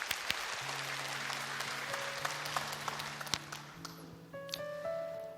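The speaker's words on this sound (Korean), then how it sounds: "우리 박수로 맞아주세요" Church congregation clapping to welcome a member about to give a testimony, a fairly quiet, spread-out round of applause that thins toward the end, with a soft sustained instrumental tone and scattered sharp claps underneath.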